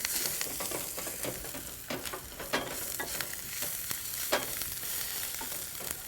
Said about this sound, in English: Fry that up momentarily.